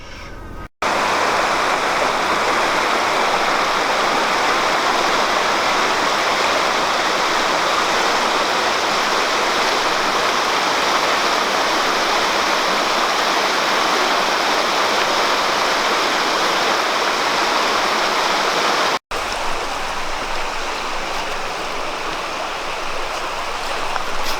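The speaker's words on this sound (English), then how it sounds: "So what do you think about the rapids?" Rapids on the Hillsborough River in Florida rush in a steady, loud, broadband roar of whitewater that carries on unbroken except for two very brief cuts, with no talking.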